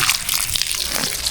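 Close, rushing spray of water hitting the leaves of a jackfruit tree, continuous and fairly loud throughout.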